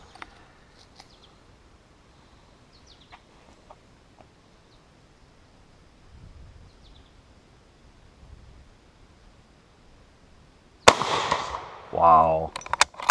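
A Krag-Jørgensen Model 1898 long rifle in 30-40 Krag fires one sharp, loud shot near the end after a long, quiet stretch, followed immediately by a voice.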